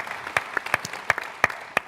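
A small audience gives a sparse round of applause at a partnership session, with a handful of distinct, unsynchronised claps spread out over a couple of seconds rather than a full ovation.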